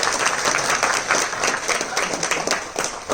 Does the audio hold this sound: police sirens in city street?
no